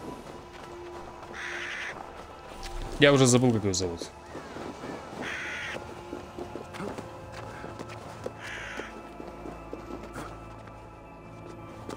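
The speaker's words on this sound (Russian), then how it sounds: "Ладно, ворона, пойдем." A crow in the video game Assassin's Creed Valhalla gives one prominent harsh caw partway through. Game footsteps and ambient sounds run around it, and someone talks over the scene.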